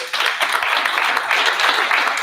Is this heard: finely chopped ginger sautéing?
no